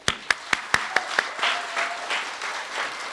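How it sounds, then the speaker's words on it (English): At a school year-end event, a few sharp individual claps ring out in a quick rhythm before the wider audience joins in a softer, spread-out round of applause for the maintenance staff. "So a big round of applause for them."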